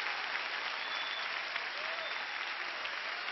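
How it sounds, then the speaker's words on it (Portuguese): A congregation at a live Christian worship recording applauds, a continuous bright wash of clapping heard at a distance, fairly faint and even throughout. "aplauda mais forte ao Senhor"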